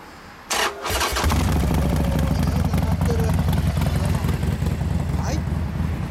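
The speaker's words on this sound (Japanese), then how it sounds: "エンジン音聞かせてもらえますか？" A 2015 Harley-Davidson Sportster Forty-Eight with Screamin' Eagle exhaust cranks and starts, then holds a loud, steady, throbbing idle close by for the rest of the moment.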